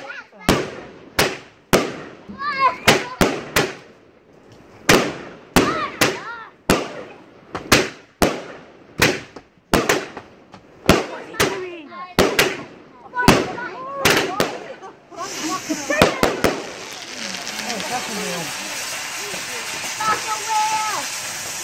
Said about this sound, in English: Really magical with the fireworks.